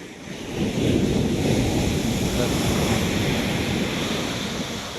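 Rough ocean surf at Kanyakumari beach roars in a continuous, loud wash of crashing waves, with heavy wind buffeting the microphone throughout.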